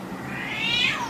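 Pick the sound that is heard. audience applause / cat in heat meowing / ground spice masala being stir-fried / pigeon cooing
cat in heat meowing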